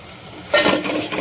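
Spice masala of cumin, coriander powder and mutton masala roasting in hot oil for mutton curry bursts into a loud sizzle with a quick stir, after a quiet moment.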